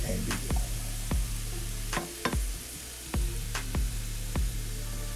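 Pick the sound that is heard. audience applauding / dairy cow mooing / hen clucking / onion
onion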